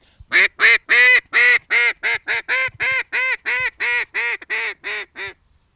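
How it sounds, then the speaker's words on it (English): Timber Rattler double reed duck call blown in a rapid run of about fifteen loud, raspy quacks, starting with long drawn notes and quickening into a steady descending cadence, close and alone. "our timber rattler is our #1 selling duck call, and this is my favorite"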